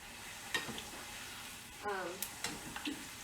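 Corn tortillas frying in hot oil give a steady sizzle with a few sharp crackles and pops, while someone talks over it.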